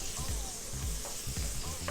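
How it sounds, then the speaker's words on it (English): Butter melting in a hot pan gives a steady close crackling sizzle, with faint stirring scrapes. "get this butter nice and melted"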